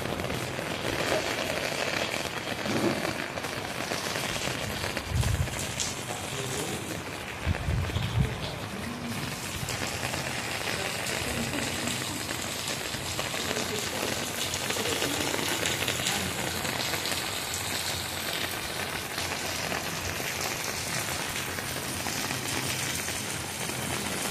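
Steady rain falls outdoors in a village garden with brinjal plants, a dense continuous patter of drops on surfaces lasting throughout, with a few brief louder knocks and rustles near the middle.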